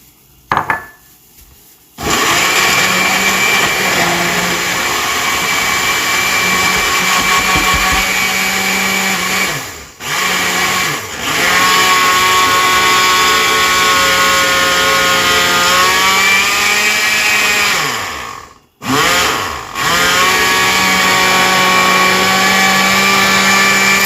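Electric blender grinding hot chili and garlic for homemade hot sauce, a loud, steady motor whine that runs in long bursts, cut by brief pauses near the start and twice more later.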